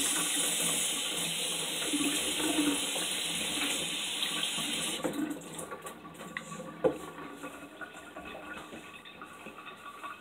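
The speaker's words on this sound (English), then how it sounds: "before we cut fruit, you have to wash your hands." Running tap water pours steadily into a sink while hands are washed, a close, even hiss for about five seconds that then drops to a quieter trickle and splashing, with a single knock near the end.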